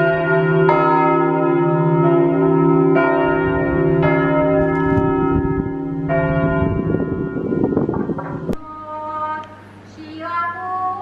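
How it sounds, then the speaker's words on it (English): A loud peal of church bells at a wooden church in Romania, repeated strikes ringing over one another, then a rougher clattering burst before the ringing gives way to a softer tone with faint background noise. "what you hear right now is the actual church bells"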